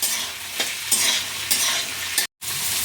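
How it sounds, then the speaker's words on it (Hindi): Peas and onions fry in a pan over a high flame, with a continuous close sizzle and a few scraping stirs, the hiss broken by one brief silent gap. "मटर को बस 2 मिनट हमें भून लेना है प्याज के साथ।"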